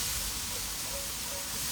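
Garlic and ginger paste fries hard on a very hot Big Green Egg, giving a loud, steady hiss and sizzle that fills the whole moment without pause.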